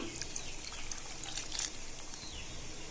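Water pours into a mixer jar of tomato chutney ingredients in a soft, continuous trickle, fairly quiet and steady, with faint splashing and no voices.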